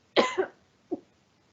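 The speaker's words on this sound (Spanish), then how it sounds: "Me van a escuchar haciendo algunos sonidos de tos" A short, close Tourette syndrome cough tic with two bursts, then a single smaller cough after a brief pause, in an otherwise quiet room.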